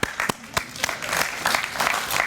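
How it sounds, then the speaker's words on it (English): Audience at a Boy Scouts award reception clapping, starting with a few scattered sharp claps and building into denser applause, with some voices mixed in. "Yeah, we can clap."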